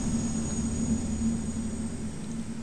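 An aircraft engine idles steadily after fuel is applied, a constant whine with a firm low hum that stays even and loud throughout, with no voices.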